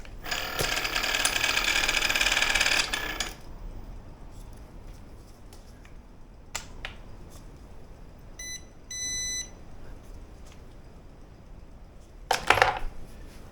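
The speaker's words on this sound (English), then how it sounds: "Well, at least the motor's working." An electric kayak motor runs with a loud, bright whir for about three seconds and then cuts out. Afterward come a few faint clicks, a short series of electronic beeps and a final brief burst of noise.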